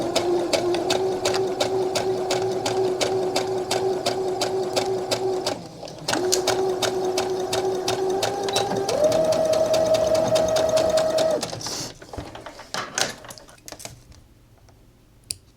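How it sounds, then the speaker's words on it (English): A sewing machine stitches the seam of a collared top in long continuous runs with a steady rapid mechanical hum, a brief pause, a slightly faster run, then it stops, leaving a few light clicks. "now I'm just gonna sew all along this way"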